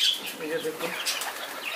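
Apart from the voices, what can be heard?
pigeons flapping wings while landing to feed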